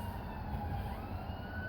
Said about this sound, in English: Here it comes, there's an ambulance.